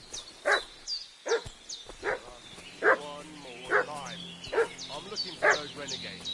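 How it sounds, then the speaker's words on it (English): A dog in the Kingdom Come Deliverance 2 medieval role-playing game barks repeatedly, sharp yips and bow-wows spaced roughly a second apart, fairly close, over a quiet low background. "What's that dog making such a fuss about?"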